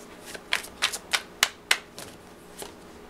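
Oracle cards being shuffled by hand, a run of crisp riffling flutters and soft slaps in quick irregular bursts, close and fairly quiet.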